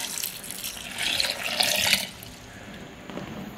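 Tap water runs into a drinking glass at close range, a steady hissing splash that swells louder for about a second before easing back to a softer trickle as the glass fills.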